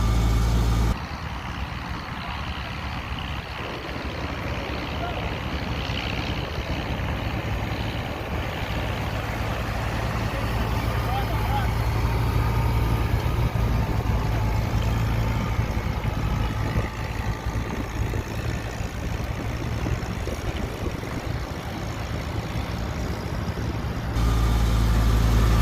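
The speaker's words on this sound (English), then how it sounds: "It takes a knee to drive a tractor." An old 284 tractor engine runs at a plow day, a steady mid-to-low mechanical drone held at a constant level close by.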